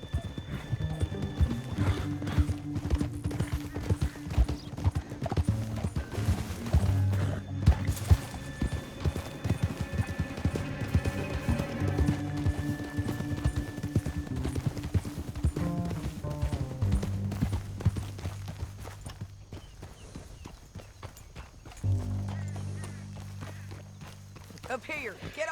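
Horses galloping in Red Dead Redemption 2, rapid rhythmic hoofbeats pounding for most of the stretch before slowing and fading, with voices talking over the ride and musical score underneath.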